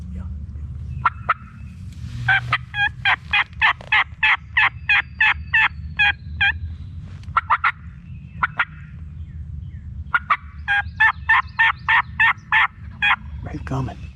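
A wild turkey gobbles from a wood block during a hunt, giving scattered gobbles and two long rapid rattling runs, loud and near against a low steady background murmur.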